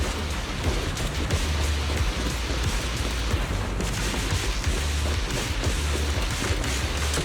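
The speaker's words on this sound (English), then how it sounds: "It wasn't heavy rain like now." Steady heavy rain in the video game Zenless Zone Zero, a dense continuous hiss of falling water filling the scene with no voices over it.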